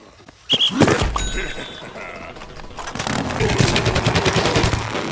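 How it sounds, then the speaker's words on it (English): The zombie all-star's big, powerful cannon in the video game Plants vs. Zombies: Garden Warfare, with a few sharp loud blasts and then a rapid stream of repeated shots, close and dominant. "He's got a big, powerful zombie cannon as his primary weapon."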